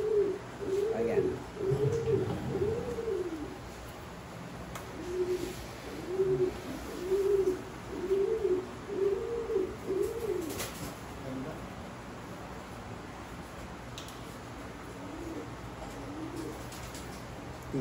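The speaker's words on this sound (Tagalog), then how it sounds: "Typical na ibon ng Jackie De Bruin" Belgian long-distance racing pigeons coo in a loft, rhythmic rolling coos in repeated bouts, close and clear, fading to softer calls near the end over a faint background hiss.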